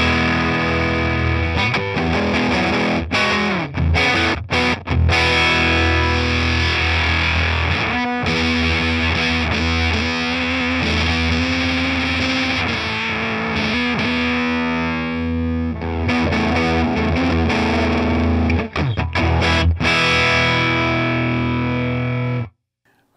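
An electric guitar on the bridge pickup plays through a Prescription Electronics COB fuzz pedal, a home-built AionFX Obscura clone, giving thick, saturated sustained chords and riffs, loud and close, with brief stops and a final cutoff.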